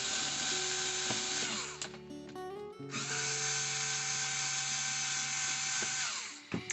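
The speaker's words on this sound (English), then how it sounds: "You don't have to use an electric screwdriver if you don't want to" Electric screwdriver backing screws out of a set of horse clippers, a close, high whirring motor that runs, stops briefly and starts again, ending with a couple of small clicks.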